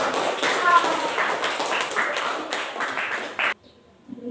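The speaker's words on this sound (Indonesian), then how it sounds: "Ya, tepuk tangan untuk teman." Classmates applaud after a group presentation in a classroom, a dense patter of clapping from a small crowd that runs steadily for about three and a half seconds and then stops abruptly, leaving near silence.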